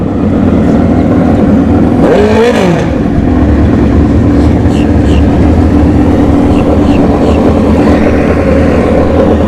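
At an NHRA bracket drag race, engines roar loudly and continuously as a ZX14 motorcycle launches with a brief rising rev sweep, and an announcer talks over the din.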